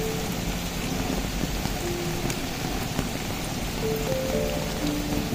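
Steady rain falls over a village wetland with water lilies, a dense, even patter that fills the scene without pause, with no voices, and faint distant rumbles suggest thunder.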